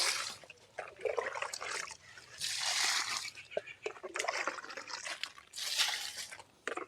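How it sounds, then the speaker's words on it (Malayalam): Liquid fertilizer poured onto the ground at the base of a coconut tree in several bursts, splashing and trickling nearby, with pauses between pours. "വെറുതെ ചോട്ടിൽ ഒഴിച്ചു കൊടുക്കാം ഇങ്ങനെ ഒഴിച്ചാൽ മതി"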